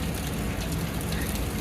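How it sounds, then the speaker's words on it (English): Steady rain falling outside a beach vacation balcony, a dense continuous hiss of drops close by with no pauses or voices. "It's raining."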